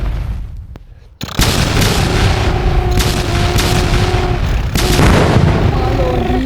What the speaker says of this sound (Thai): ฉันจะยิงตายเลียม